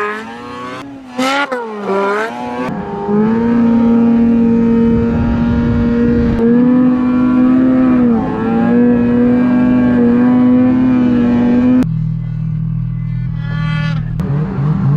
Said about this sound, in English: We got Justin riding here on the old Polaris 800.